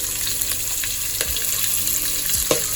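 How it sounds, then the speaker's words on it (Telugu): Chopped onion and green chillies frying in a pan for chicken pulao, a continuous close sizzle with a couple of faint utensil taps and stirs. "మనకి ఆనియన్ ప్లస్ పచ్చిమిర్చి కొద్దిగా ఫ్రై అయ్యాయి"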